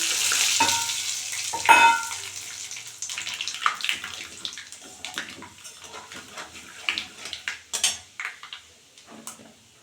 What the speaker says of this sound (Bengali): এখন রাঁধুনি কালো জিরে আর মেথি একসঙ্গে ফোড়ন দিলাম